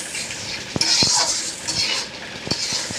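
Onions frying in oil with bay leaf and garam masala, a soft sizzle broken by several sharp clinks and scrapes of a spoon against the pan.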